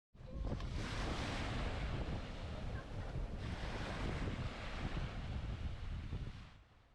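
Sea surf rolls onto Bournemouth Beach under strong, constant wind buffeting the microphone, a loud, unbroken roar of waves and gusts that fades at the end.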